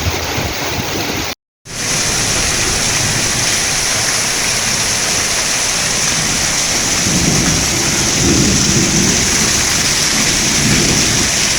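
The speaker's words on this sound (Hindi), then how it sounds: "समूचे उत्तर भारत में पिछले सप्ताह के मध्य से रुक रुक कर हो रही जोरदार बारिश" Heavy rain pours steadily over northern India, a loud, dense hiss with deep rumbles of thunder rolling through, briefly cut by a short gap of silence near the start.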